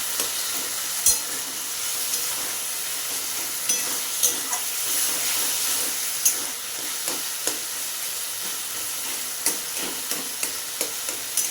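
Taro leaves cooked with grated coconut sizzle in a pan for a Bengali vegetarian kochu shak, a steady, close frying hiss broken by regular light knocks and scrapes as the mixture is stirred.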